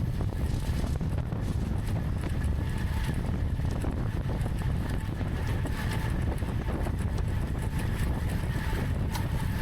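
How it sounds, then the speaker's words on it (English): Strong, steady wind buffets the microphone during a Cat 4 criterium bike race, a loud continuous low roar with gusty rumble throughout and no talk. "It was just really windy, super windy"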